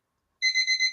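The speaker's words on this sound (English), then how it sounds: "I thought that was my alarm." A short electronic alarm beeping, four quick bright tones in a row after silence, moderately faint and alone.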